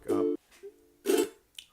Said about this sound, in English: Rasguero with a mute.